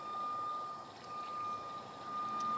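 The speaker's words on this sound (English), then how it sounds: "I wish that construction traffic would be quiet." Construction truck reversing beeps sound in a steady repeating tone from some distance during an outdoor walk by a creek, over low traffic rumble and ambient noise.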